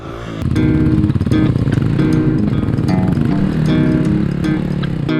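Motocross dirt bike engine running loudly close by, a harsh steady rasp held for several seconds with slight rev swells, no talking.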